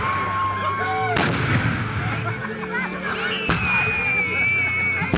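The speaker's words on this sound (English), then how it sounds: "I've never been so close to fireworks to feel the air blast." Fireworks shells exploding very close at a 2010 Strnad display, two sharp concussive blasts landing amid a continuous crowd roar and crackle, with people audible throughout.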